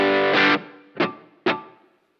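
Three notes of an instrument played through a pedalboard's slightly larger hall reverb patch with a touch of pre-delay: a sustained chord, then two sharp plucked hits, each trailing off into a long, fading wash of reverberation with no other sound.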